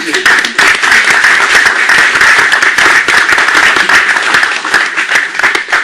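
A crowd applauds loudly and steadily for several seconds, dense clapping filling the space without a break.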